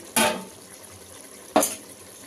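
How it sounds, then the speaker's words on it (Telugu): Water poured from a glass into a pot for khuska rice, heard as two short splashing pours about a second and a half apart, close and fairly loud, with no talk. "ఇప్పుడు ఇదే గ్లాస్తోని నేను 5 గ్లాసుల వాటర్ తీసుకుంటున్నా."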